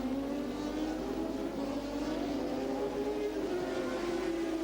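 1988 Formula One cars race past, a sustained engine drone with slowly shifting pitch, heard at moderate distance as a steady roar with no voices.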